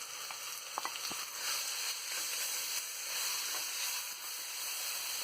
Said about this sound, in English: now I'm adding raw mango and frying for some time